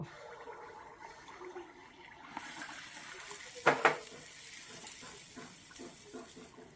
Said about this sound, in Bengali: কড়াইটা বসিয়ে রেখেছি গরম হয়ে আসতে তেলটাও দিয়ে দিচ্ছি এবারে দেখুন এই যে পুরিগুলা দিয়ে দেব